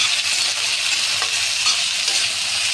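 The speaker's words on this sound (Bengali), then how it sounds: "এটা একটু নেড়ে চেড়ে ভাজা ভাজা হলে তারপর আমি সাজনাটা দেবো।" Chunks of potato, sweet potato, pumpkin and sliced eggplant are stirred while frying in a pan, a steady bright sizzle with occasional scraping of the spatula, close and continuous, with no talking.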